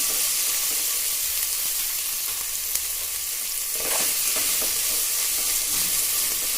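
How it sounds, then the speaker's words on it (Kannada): Spices and grated coconut are tempered in hot oil for bisi bele bath, giving a bright, steady sizzle close by with brief stirring clinks and a surge of frying sound midway. "ಎಲ್ಲ ಹಾಕಿ ಚೆನ್ನಾಗಿ ಒಗ್ಗರಣೆ ಮಾಡಿ"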